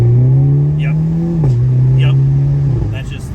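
A 2022 Hyundai Elantra N's exhaust drones steadily while driving, holding a loud, even tone that dips slightly twice, with faint higher chirps and clicks over it.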